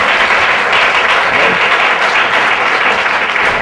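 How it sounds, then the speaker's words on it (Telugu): A church congregation at a Telugu Christian sermon breaks into loud, sustained applause, dense and continuous throughout with no voices standing out. "Clap the hands for Uriah."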